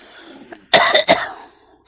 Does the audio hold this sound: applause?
no